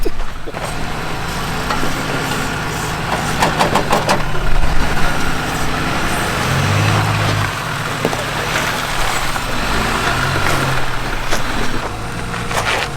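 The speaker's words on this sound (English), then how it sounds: "there's a vehicle coming" Truck engine rumbling on a rocky off-road trail as a vehicle draws near, a steady loud drone with a swelling low tone, scattered cracks and knocks on top, no talk.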